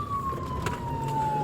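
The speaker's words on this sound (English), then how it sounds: "They activated their vehicle's emergency lights and siren and reinitiated the vehicle pursuit" A police car siren wails during a vehicle pursuit on southbound Cabrillo, a steady, slowly falling tone heard close over road noise and faint radio chatter.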